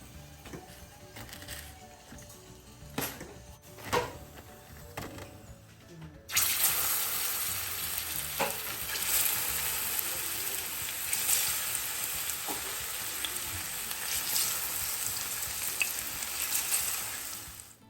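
Breadfruit pieces sizzle steadily in hot oil in a pot, a loud, dense crackle that jumps up after a few quiet seconds of kitchen clatter and continues unbroken, near and alone.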